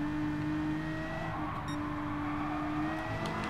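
A race car engine in the Gran Turismo Sport video game drones loudly and steadily as the throttle opens, its pitch climbing slightly, with no voices over it.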